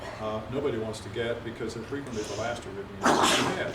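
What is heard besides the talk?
sneeze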